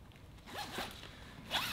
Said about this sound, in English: Open up the zipper and that'll allow you to hit the inside of the sleeping bag.